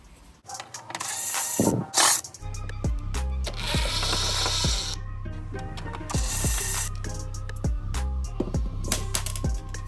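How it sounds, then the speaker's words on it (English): Robertson screws come out of a Frigidaire oven control panel with repeated close clicking and ratcheting driver sounds over a steady low hum, with scattered metallic ticks throughout. "I have to take these two screws off and those two screws off, Robertson"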